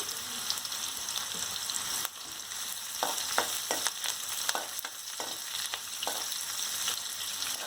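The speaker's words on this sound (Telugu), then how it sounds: "ఆనియన్ కొంచెం బాగా వేగాల" Onions frying in a pan for a Rayalaseema uggani dish, a steady close sizzle with repeated scraping clicks as the pan is stirred.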